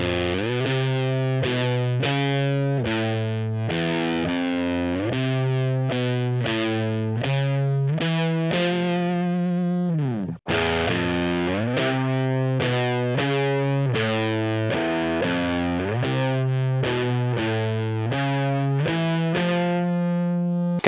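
Electric guitar played through a Sonicake Fazy Cream fuzz pedal, a loud, continuous stream of thick, saturated sustained notes and chords changing every half second or so, with one brief drop in the middle.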